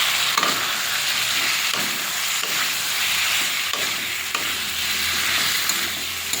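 Prawns and potatoes stir-fry in spice paste with salt, a steady loud sizzle broken by repeated scraping stirs throughout, no voices.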